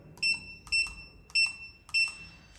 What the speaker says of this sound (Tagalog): you'll be given a 8-digit code which you have to dial here